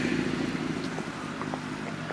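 A motorcycle engine runs and revs in the city centre of Bacău during the 2024 Turul Colinelor cycling race. It makes a steady, close, loud drone throughout, with no talking.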